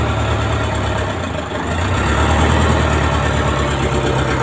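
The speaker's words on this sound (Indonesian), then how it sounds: "itu suara mesinnya" A boat engine rumbles steadily at close range, a low, throbbing drone with a constant mechanical hum and no break.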